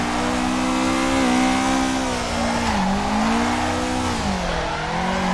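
A car drifting through a slide with its engine droning steadily and tires squealing continuously, the pitch rising and dipping as the car swings, close and loud with no talk.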